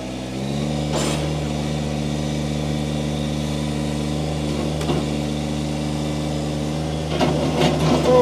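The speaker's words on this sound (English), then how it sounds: "We're going to fire this tractor up." A 2017 Kubota BX1870 compact tractor engine catches and settles into a steady, close, droning idle, then revs up slightly near the end.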